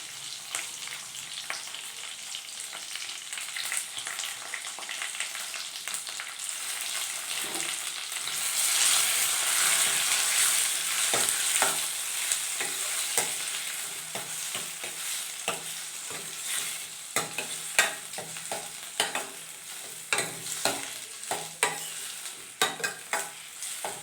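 Chopped tomato fries in a pan for a hotel-style methi (fenugreek leaf) dal, giving a steady close sizzle with scraping stir strokes that grow brisker and more clattery toward the end, with no voices.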